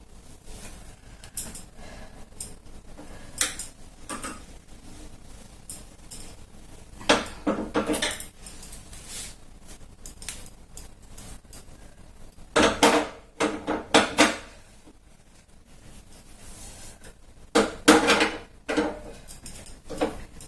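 Someone cleans a gas stove in a home kitchen at night, making intermittent clanks and clatters of metal pot stands and utensils, with scattered bursts separated by quieter stretches.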